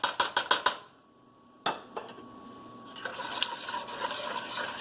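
Whisking vegan Zuppa Toscana in a pot: a quick run of sharp metallic taps against the pot, a short pause, then renewed scraping and clinking strokes that build into steady stirring.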